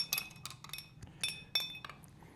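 Ice cubes clink sharply against a glass as an Old Fashioned with Maker's Mark bourbon is stirred, giving several close, bright, irregular clinks with short pauses between them.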